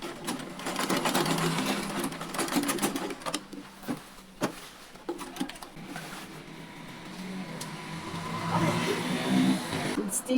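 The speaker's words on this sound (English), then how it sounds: "Stitch down the slits." A sewing machine stitches down the slit of a high-low blouse, running steadily up close with varying speed while a person talks over it.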